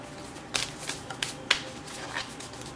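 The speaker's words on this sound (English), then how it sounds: "One more shuffle." Tarot cards are shuffled close by in a few quick riffling bursts, soft crisp flutters spaced irregularly against a quiet background.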